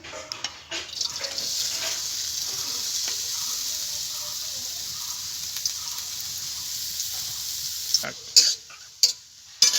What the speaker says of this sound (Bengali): গাজরটাকে প্রথমে ভেজে নেব।